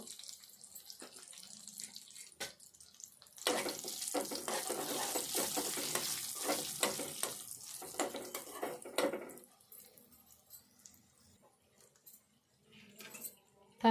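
Sizzling and crackling of a spice tempering with curry leaves and turmeric frying in hot oil, loudest in the middle stretch, with a few clinks of a utensil against a pan.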